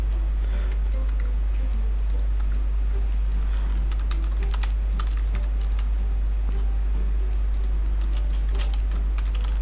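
Rapid, irregular clicking of computer keys as code is typed, close and steady throughout, over a strong constant low hum and no talking.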